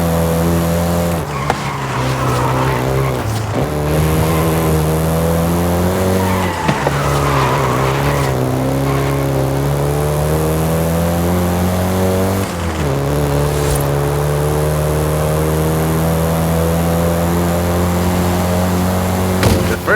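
A Volkswagen Golf GTI driven in Forza Horizon 5 revs hard through repeated gear changes, its engine note climbing and dropping with brief shifts, while tires squeal and skid throughout, loud and close with no talk.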